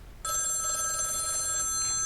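A cellphone starts ringing abruptly, a bright electronic ringtone with steady sustained tones that continues loud and unbroken to the end.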